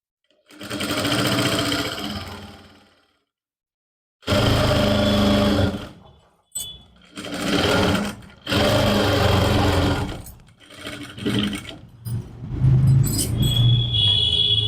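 A sewing machine stitching a lining suit runs in several bursts of steady mechanical whirring, close and fairly loud, separated by short pauses with small clicks and handling noises.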